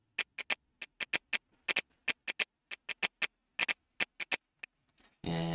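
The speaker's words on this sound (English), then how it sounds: "And then a snap loop that sounds like this" A programmed finger snap loop in Ableton: crisp, bright, tight snaps in quick rhythmic clusters, fairly close and clean, ending with a sudden burst of sustained noise.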